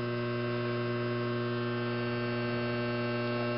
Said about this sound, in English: the blower will continue to run to finish sending any built-up heat back into the house